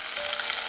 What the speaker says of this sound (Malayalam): ഇനി ഇത് ഈ ചേമ്പ് കറിയിലേക്ക് ഒഴിക്കാം.